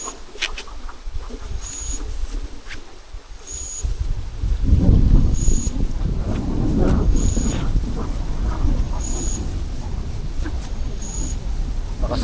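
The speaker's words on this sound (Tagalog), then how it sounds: "Lakas ng hangin" Gusty wind rumbles and buffets the microphone, swelling louder midway, with a faint repeating high beep in the background.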